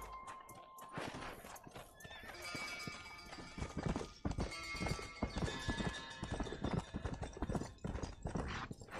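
Horse hooves clip-clop in a quick, steady rhythm with occasional neighs and whinnies, set against a busy Red Dead Redemption 2 game soundscape.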